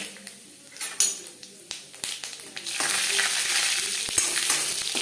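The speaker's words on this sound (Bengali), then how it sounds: "শুকনো লঙ্কা ভেজে নেওয়ার পরে অ্যাড করছি পাঁচ ফোড়ন" Panch phoron spices crackle in hot oil with dried red chilli, first with sparse spoon taps and clinks, then settling into a dense, continuous close sizzle.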